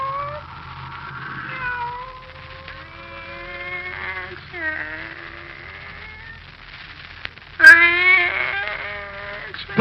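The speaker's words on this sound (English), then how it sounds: "Come here, Kitty" In a radio drama, a cat meows repeatedly in drawn-out, wavering cries close to the microphone, growing louder and more insistent near the end, with a low hum underneath.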